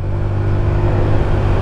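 A 2018 Honda Click 125i or 150i scooter pulling away under throttle, a loud, close, steady engine drone and whir with road rumble, no talk.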